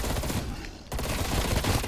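Rapid automatic fire from a FAMAS in Cold War Zombies, a dense, loud burst that cuts out briefly and then resumes as continuous shooting, with no talk.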